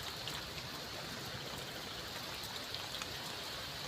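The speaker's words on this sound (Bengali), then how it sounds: "বৃষ্টি কমতেছে না" Steady rain falls outdoors in a broad, even hiss, faint and continuous with a few soft drop ticks, and no voices over it.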